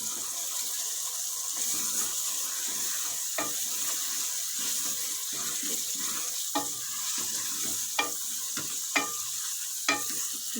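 White chicken karahi fries in a pan with a steady, bright sizzle, broken by occasional sharp scrapes and clinks of stirring, close and continuous with no talk.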